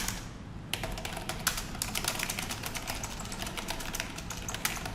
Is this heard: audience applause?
no